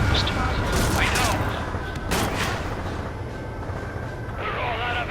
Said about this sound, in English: They already are firing on us.